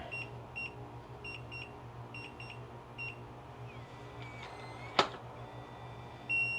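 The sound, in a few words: eufy Smart Lock E30 keypad beeps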